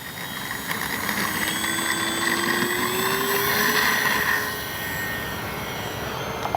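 A Kavan Bristell B23 radio-controlled model airplane takes off with flaps set, its steady electric motor whine rising and holding, then easing slightly, over constant outdoor wind noise.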